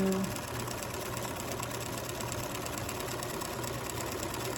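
A sewing machine stitches a fabric landscape postcard with the needle kept in the down position, giving a continuous even mechanical whir at close range with no pauses.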